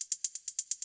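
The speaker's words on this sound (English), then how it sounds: "Then the third hat we use here is a 16th hat" Roller hi-hat sample playing rapid sixteenth-note hits in Ableton, a bright, thin, ticking stream of evenly spaced strikes, fairly quiet and alone.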